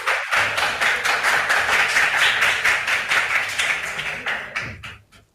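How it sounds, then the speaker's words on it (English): An audience at a regional school quiz competition claps for about five seconds, a dense, loud patter of many hands that thins and fades out at the end. "A hand of applause."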